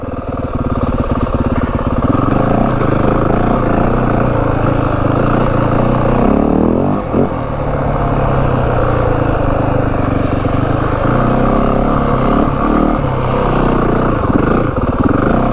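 A 2025 Yamaha WR450F dirt bike ridden in first gear drones loudly and close, its engine note rising and falling with throttle and mixed with wind rush throughout.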